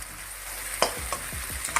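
Tomatoes and green chillies fry in a pan for homemade chicken chow mein, with a low, steady sizzle broken by a few quick scraping strokes of a spatula, close up.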